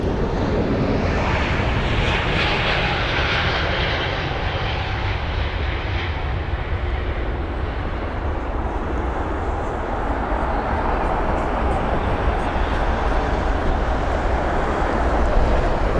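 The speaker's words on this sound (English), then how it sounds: "So off into the sky goes the Swiss A320 Neo to Zurich." A Swiss Airbus A320neo jet bound for Zurich takes off from London Heathrow, its engines a loud, steady roar that holds throughout with some wind noise.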